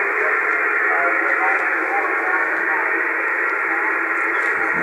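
Shortwave radio station broadcast picked up on an anti-noise antenna, a continuous band-limited hiss with faint voice-like modulation running steadily throughout at moderate level.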